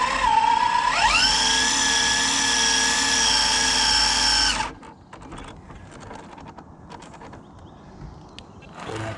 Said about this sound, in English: I am going to give it just that little bit of a burnout